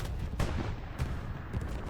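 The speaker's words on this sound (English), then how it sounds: "Smoke artillery hitting the area." Smoke artillery shells hit the area during a competitive esports match in a war video game, a dense rumbling barrage of repeated heavy thuds that land about every half second over constant battlefield noise.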